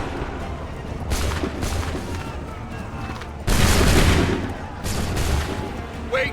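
Musket volleys crack out in Assassin's Creed 3, a dense crackle of gunfire that swells in bursts, loudest in a heavy volley midway, with shouted commands and battlefield noise around it.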